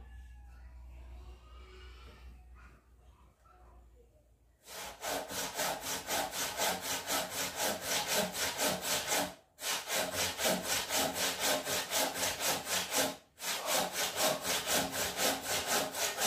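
A saw cutting through wood in steady, rhythmic back-and-forth strokes, loud and close, with two brief pauses between bursts after a quiet opening.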